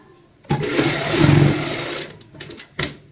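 A sewing machine runs a line of stitches over the zip of a heart-shaped cushion cover, a steady whir for about a second and a half, then short bursts and a final brief run, close and fairly loud.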